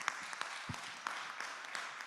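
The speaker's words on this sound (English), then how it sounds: "A great strong note to finish on that received a rousing round of applause here in the room, Jackson, in case you can't hear that." Audience in a room applauding after a speech, a thin scattering of claps that sound distant and fairly faint, continuing steadily throughout.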